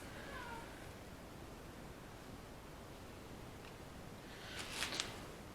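A faint cat meow near the start over a soft, steady background hiss, followed later by a brief rustly burst.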